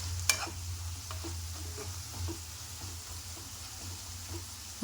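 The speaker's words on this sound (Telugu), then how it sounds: "పసుపు వేసుకొని మొత్తం కలిపేసుకోవాలి." Ivy gourd with turmeric frying in a pan, a low steady sizzle under light scraping strokes of a spoon turning the pieces, one sharp clink near the start, with no speech.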